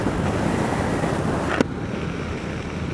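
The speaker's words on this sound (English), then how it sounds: "getting kind of windy." Steady roaring wind buffeting the microphone outdoors at Clearwater's Sunset Beach, loud and constant, with a brief thump partway through.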